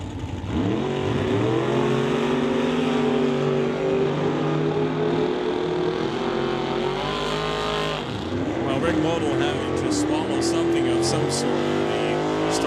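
A pair of Camaro drag race cars accelerating hard down the strip at a drag racing event: loud, continuous roaring engines rising in pitch, with a brief drop between revs and an announcer talking over them.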